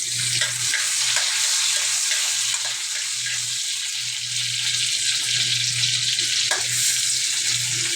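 Onion frying in a pan, a loud steady hiss of hot oil with soft intermittent scraping from stirring, close and continuous.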